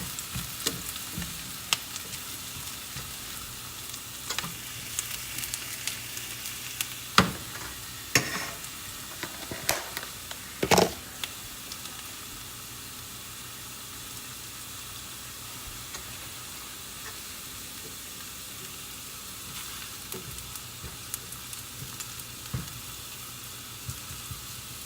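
Steady crackling sizzle of onions frying in a pan, with occasional sharp pops and scrapes of stirring, continuous for a long stretch without speech.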